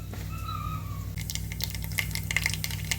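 Mustard seeds and urad dal spluttering in hot oil in a pan, with a soft sizzle that gives way to scattered sharp crackles and pops over a low steady hum.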